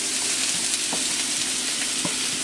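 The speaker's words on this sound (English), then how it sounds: "I'm gonna saute my onions and my fresh green parsley." Onions and fresh green parsley sautéing in a pan for shepherd's pie, a steady close sizzle with a few soft stirring scrapes and taps, no voices.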